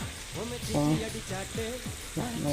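Squid sizzles in a hot pan with a loud, continuous frying hiss while a voice talks over it.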